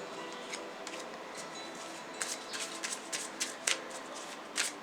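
Tarot cards being shuffled and handled by hand, a soft papery rustle with a few crisp flicks and snaps near the end, close and quiet with no talking.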